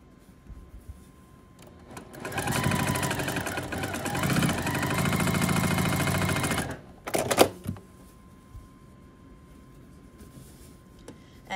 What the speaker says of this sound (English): So now I'm going to sew these two together.